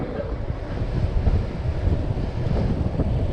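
Steady, heavy wind buffeting the microphone, a continuous rumbling roar with gusty swells throughout, while riding a Cyrusher Ranger fat-tyre e-bike over the Wolds.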